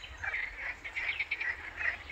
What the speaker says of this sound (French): En plus, vous allez avoir les crapauds.